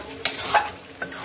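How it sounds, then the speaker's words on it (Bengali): Mutton and potato stirred together in a pot for a mutton masala, two or three short scraping strokes over a faint sizzle, close and brief with no talking. "আমি নেড়ে নিচ্ছি"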